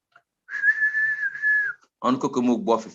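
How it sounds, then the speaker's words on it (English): A steady mouth whistle holds one sustained note for about a second, then a voice follows briefly without whistling. "If the mouth gathers together, it can produce a sound or a whistle."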